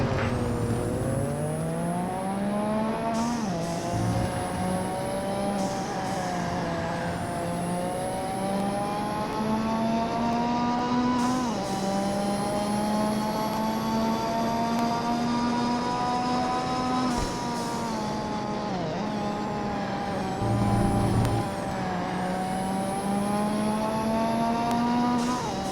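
Race cars screaming around a track in the PlayStation 2 game Total Immersion Racing, steady high-pitched engine drones rising and dropping through gear changes, with several cars layered together, loud and continuous without talk.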